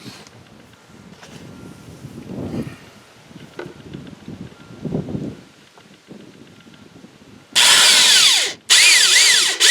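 A power drill drives screws into a back step rail outdoors, with two loud, sustained whirring bursts near the end. Quieter rustling and handling sounds come before them.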